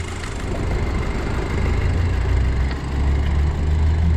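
A 2008 Audi TT's turbocharged 2.0 FSI engine idles steadily with a low, even rumble, no revving and no voices.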